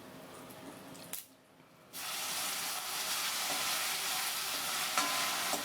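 Elephant foot yam pieces hit hot spiced oil with a sudden broad sizzle after a short quiet gap, frying loudly and steadily while being stirred, with occasional scraping clicks.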